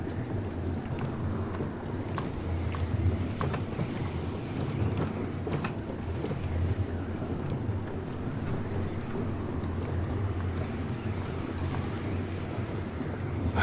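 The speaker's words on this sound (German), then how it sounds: "auf den Wind könnte ich verzichten" A steady, loud rush of wind blows throughout a ride in Banishers: Ghosts of New Eden, a continuous low roar with occasional gusts and no talk.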